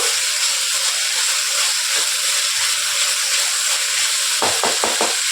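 Vegetables for a veg kurma sauté in hot oil, giving a steady broadband hiss and sizzle throughout, with a few brief stirring scrapes near the end.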